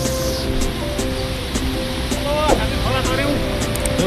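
A swollen mountain stream rushes steadily in a loud broadband roar while people talk over it.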